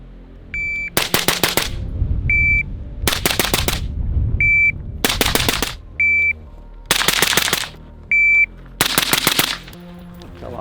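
Rapid gunfire at a target on a shooting range comes in five loud, close bursts of quick shots. A short electronic beep sounds before each burst, and the gaps between are quiet.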